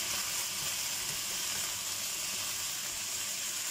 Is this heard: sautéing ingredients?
yes